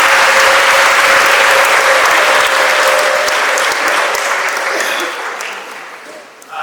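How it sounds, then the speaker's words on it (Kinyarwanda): A church congregation at St Vincent Pallotti parish in Gikondo breaks into loud, sustained applause that fills the room, then gradually thins out toward the end. "Muhize amashyi dushimira Imana."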